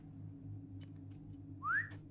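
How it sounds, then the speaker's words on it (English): Player's whistle call for a horse in Lord of the Rings Online, a short rising whistle near the end over a low steady game hum. "Stop whistling."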